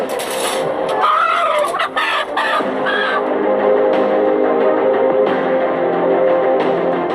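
A flock of live chickens, including the giant Índio Gigante breed, clucks loudly and continuously in a dense, close chorus, with occasional sharper squawks and no voices.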